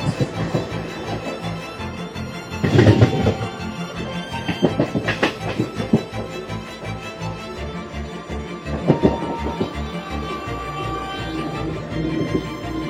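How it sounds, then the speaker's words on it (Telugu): A passenger train on the Koraput to Visakhapatnam line through the Eastern Ghats in rain: a continuous rumble and rattle of the carriages, with a brief tonal horn blast partway through, heard from inside the train. "మన ట్రైన్ హాంకింగ్ అది."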